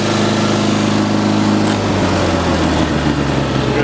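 A Cub Cadet 1420 Hydro hydrostatic lawn tractor engine runs steadily at close range, a loud, constant drone that shifts slightly in pitch partway through.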